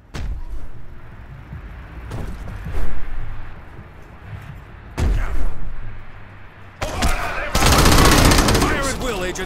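Bursts of gunfire in the video game Crackdown, scattered short volleys building to a dense, loud sustained barrage near the end, with a voice speaking over the action at times.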